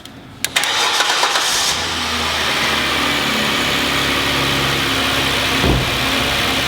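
A 2007 Hyundai Azera engine cranks briefly, catches, and settles into a steady, loud idle that runs on continuously to the end, heard close with no talking.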